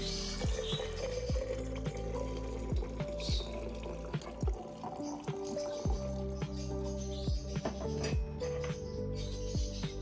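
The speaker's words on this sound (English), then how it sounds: "Then, fill the whole thing up with water." Room-temperature water splashes and gurgles steadily as it is poured to fill a container, with scattered drips and small knocks throughout.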